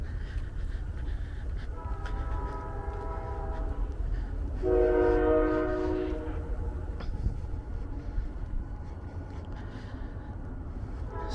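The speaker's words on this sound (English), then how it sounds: "As you can hear, we are around a ton of trains." Trains rumbling near the ruins of the Joliet Iron Works, a steady low rolling roar with a loud horn blast sounding twice, the second longer and stronger, with no talking.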